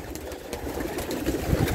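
Racing pigeons in a loft give soft, murmuring coos with light rustling, close by and steady, with no voices.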